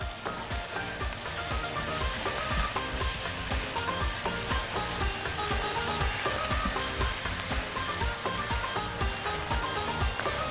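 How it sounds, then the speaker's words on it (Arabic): Onion and garlic sauté in a hot pan while preparing a creamy shrimp tagine, giving a dense, steady, close sizzle with constant crackling and popping and no voices. "خلينا نشوح بقى البصل والثوم مكان تحمير او تشويح الجمبري"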